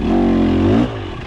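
A 300cc racing motorcycle revs hard in second gear, a loud, close engine note with a rising pitch that cuts off abruptly partway through, followed by a lower idle rumble.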